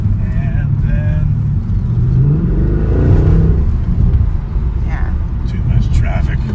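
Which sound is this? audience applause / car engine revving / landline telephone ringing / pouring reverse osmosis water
car engine revving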